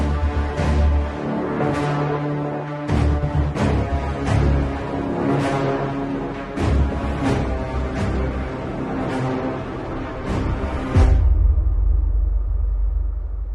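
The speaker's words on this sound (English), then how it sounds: "I just used a loop combo for symphonic destruction to really get something on that project" Symphonic destruction loop combo playing orchestral music: heavy sustained low strings and brass under repeated pounding percussive hits in a driving rhythm, loud and dense, ending in a deep rumbling boom.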